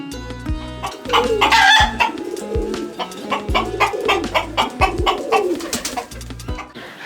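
Pigeons cooing among chickens kept on a rooftop garden in Jashore, layered low rhythmic coos with clucks and calls close by, continuous and fairly loud throughout with no speech.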